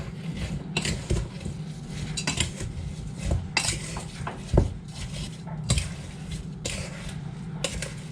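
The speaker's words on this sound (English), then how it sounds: "mix it all up so all the apple slices have been coated in my delicious mixture" Apple slices being mixed with cinnamon and sugar in a bowl for a square apple pie, with repeated clinks and scrapes of a utensil against the bowl in uneven bursts, close and fairly loud, without speech.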